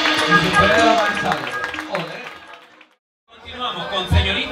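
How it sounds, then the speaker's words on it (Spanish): Audience at a Colombian beauty pageant applauding and cheering loudly amid crowd chatter, fading to a moment of silence before noise resumes. "aplauso"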